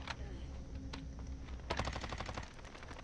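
Rapid automatic gunfire from a first-person shooter video game, a dense burst of shots in the final second after quieter game ambience, fairly close and loud.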